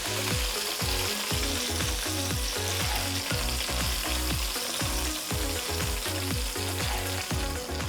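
Chicken pieces browning in a hot pan after being turned over, with a loud, steady frying sizzle throughout and repeated low rhythmic thumps layered beneath.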